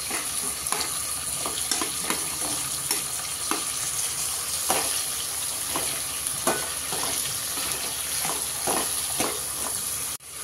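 Onions fry in oil for a home-style sambar, a steady close sizzle broken by regular scraping strokes of a spoon stirring the pan, with no talk.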